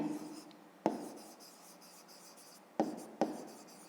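Pen or pencil writing on paper during a 5th-grade maths exercise, a faint steady scratching with a few sharper taps and strokes, close and quiet with no talking.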